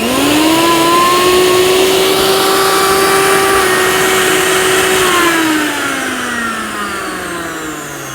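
Miyako blender grinder motor spinning at 25,000 RPM, a loud, steady high-pitched whine that holds for several seconds, then drops in pitch as the motor winds down.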